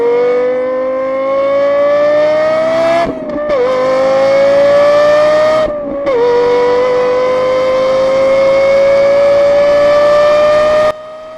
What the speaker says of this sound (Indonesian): Hasilnya, Lexus LFE memiliki lengkingan suara seperti alat musik dan mendapatkan julukan Roar of Angel.